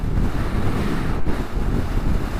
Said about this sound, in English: we're talking wind here